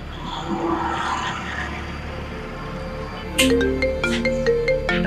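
Over a low background drone, a mobile phone ringtone breaks in partway through, a loud, bright melodic tone pattern repeating its notes.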